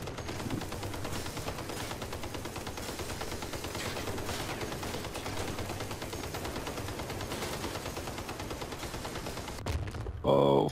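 Constant gunfire and mechanical clatter from a Crossout vehicle battle, with dense overlapping shots and thuds at a steady level throughout and a voice briefly audible near the end.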